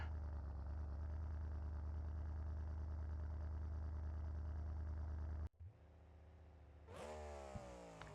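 A CRD car engine in the video game BeamNG.Drive runs with a steady, loud mid-range drone for about five seconds, then cuts out abruptly before a quieter, shifting engine tone rises again.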